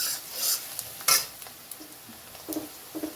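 Onions browning in a pan for Hakka noodles are stirred steadily, with scraping spatula strokes and light metallic clinks over a faint sizzle, close and fairly quiet.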